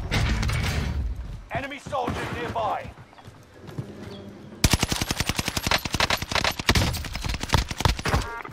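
Rapid automatic gunfire bursts in a video game, loud and close, crackling in dense volleys in the latter half, with someone talking over the earlier part.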